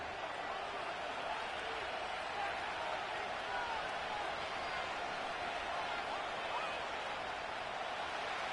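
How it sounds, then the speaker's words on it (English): Steady, dense stadium crowd roar from an EA Sports football video game, an even wash of distant cheering noise that holds at one level throughout without distinct claps or surges. "The crowd is definitely ready."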